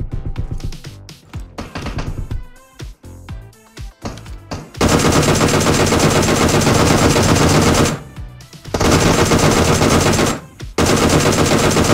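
Sustained automatic gunfire in the mobile battle-royale game PUBG Mobile, with dense rapid bursts after a stretch of scattered shots, loud and close, separated by brief pauses.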